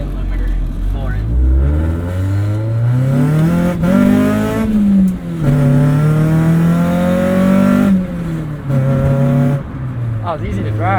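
A 1996 Acura Integra race car with a B18 engine, no AC or power steering, revs hard from cold toward the rev limiter, its loud engine note climbing and dropping several times up close.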